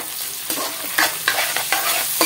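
Chopped onions fry in hot oil for a dhaba-style egg masala curry, a continuous close sizzle punctuated by several sharp scrapes and knocks of a spatula stirring in the pan.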